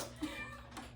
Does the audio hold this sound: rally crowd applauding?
no